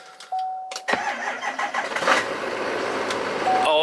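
A truck engine cranking and catching: a brief starter whir with a warning chime, then the engine fires and revs up into a steady loud idle close by, with a chime returning at the end.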